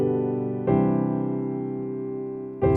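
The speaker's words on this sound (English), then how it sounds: "So the 2, 5, 1 is going to sound like this." Piano plays a 2-5-1 chord progression: a sustained chord, then a second struck chord ringing and decaying, and a third chord entering at the end, clear and close with no voice.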